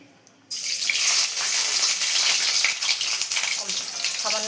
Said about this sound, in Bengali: ডিমগুলো ভালো করে ভেজে নেবো লাল লাল করে